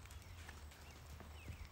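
Hooves of a mare clip-clopping at a steady walk while she is ridden under saddle, soft, close thuds over a constant low background hum.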